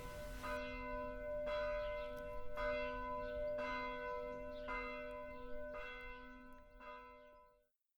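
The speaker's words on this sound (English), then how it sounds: "I heard the Angelus bell tolling from a church in the distance." An Angelus church bell tolls in the distance on a hazy morning near Dublin, seven evenly spaced ringing strikes with long humming overtones, faint and alone before fading to silence.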